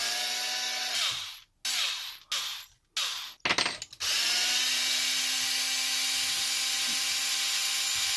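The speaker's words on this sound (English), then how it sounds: "Use my driver just to make quick work of it." A power driver backs screws out of a Redcat Kaiju RC truck during teardown, whirring close in several short bursts broken by pauses and ratcheting clicks, then ending in one long steady run.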